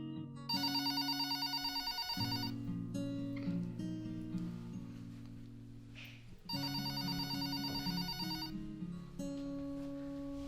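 A telephone rings in two loud, electronic trilling bursts separated by a pause, with a steady tonal hum continuing underneath between the rings.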